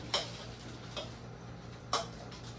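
Trader Joe's raviolis being stirred in a pot with oil, three sharp utensil clicks against the pot spaced about a second apart over a low steady hum, no talking.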